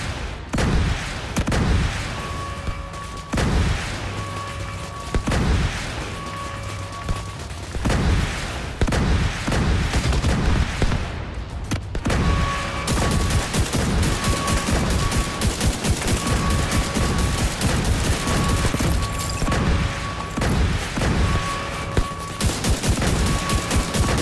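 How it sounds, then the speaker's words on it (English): Missile turrets fire in the video game The Division 2, a dense barrage of rapid shots and booms with steady mechanical tones beneath, loud and continuous throughout. "missile turrets activating"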